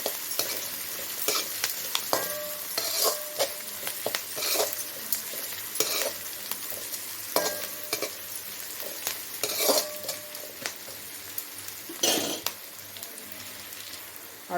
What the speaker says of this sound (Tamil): இப்போ நல்லா வதங்கட்டும்.